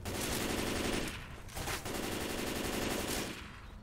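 Rapid burst-fire gunshots from a weapon in the video game Left 4 Dead rattle loudly in dense volleys, broken by two short pauses.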